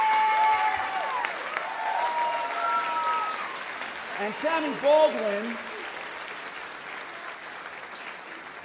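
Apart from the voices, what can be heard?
gala audience applause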